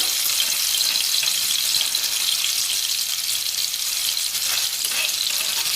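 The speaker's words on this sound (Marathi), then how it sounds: "ती तडतडत असतानाच त्यामध्ये हिरवी मिरची आणि लसूण" Hot oil tempering crackles and sizzles steadily as green chili and garlic paste go into the pan, a close, bright, continuous hiss with small pops and no voices.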